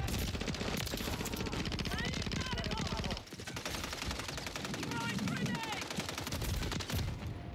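Sustained automatic gunfire in Call of Duty Modern Warfare 3 multiplayer, rapid bursts of rounds used to pin an opponent down, dense and continuous with a brief dip midway, while voices talk faintly underneath.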